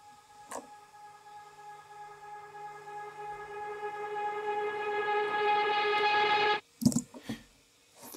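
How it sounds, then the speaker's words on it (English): In a track's build-up, another synthetic guitar-like tone swells in, a steady bright harmonic drone growing gradually louder over several seconds before cutting out abruptly, followed by a few short percussive hits. "And there is another guitar coming in."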